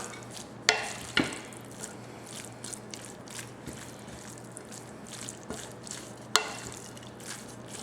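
A spoon stirs shredded cheese through beef roast enchilada filling in a pan, giving soft, sparse scrapes and a few sharp clinks against the cookware over a quiet background hum.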